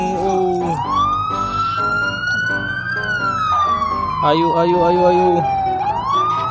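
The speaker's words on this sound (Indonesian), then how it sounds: "Gak usah pakai sirine ya." A loud wailing ambulance siren sweeps slowly up and down in pitch, close by, while a voice calls out briefly over it.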